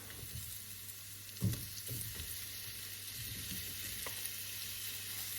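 Shrimp sizzling in a hot pan with onions for paprika shrimp pasta, a soft, even frying hiss with a few faint utensil knocks, quiet and steady throughout with no speech.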